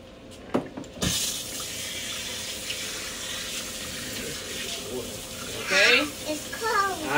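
Water runs from a tap into a sink in a home, a steady rushing flow under intermittent talk from an adult and a child.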